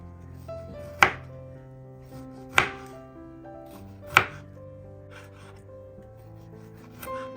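A knife slices a peeled kiwi into round slices on a cutting board, giving three crisp, evenly spaced thunks and a softer fourth, close and distinct over quiet background music.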